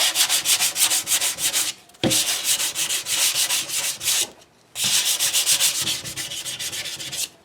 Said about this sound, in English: So the hand sanding was taking forever